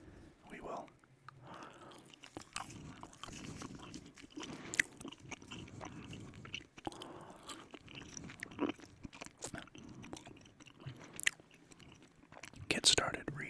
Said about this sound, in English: let's go ahead and put some gum in my mouth